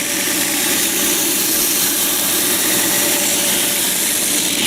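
A power sander in a school shop runs at full speed with a steady, loud, unbroken whir and hiss that holds for the whole stretch without pause.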